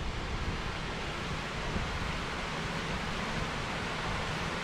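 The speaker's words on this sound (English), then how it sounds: "You can hear plenty of water flowing on it." Water pours over Neil Turner Weir near Mitchell in a continuous, dense rushing roar, loud and unbroken throughout with no voices.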